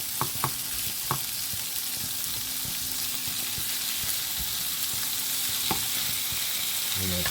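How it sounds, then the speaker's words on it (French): Strips of beef sizzle steadily in a frying pan for mustard beef, with a continuous crackling fry and a few sharp scraping clicks as the meat is stirred and pushed around. "Je vais pousser ça gentiment dans la poêle."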